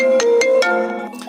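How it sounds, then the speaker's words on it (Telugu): iPhone 6 ringtone played from a phone app, a loud, bright synthetic melody of several quick repeating tonal notes over a little over a second, alone without talk. "సో రింగ్ టోన్స్ వచ్చేసి ఫస్ట్ వచ్చేసి మనకి iPhone 6 అని ఉంది"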